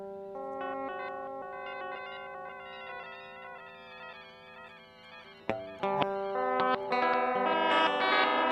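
A Chase Bliss Blooper looper pedal plays back a pitch-shifted loop of sustained, layered tones that drift and shift in pitch, then swell into a louder, denser stack of notes partway through, with no voices.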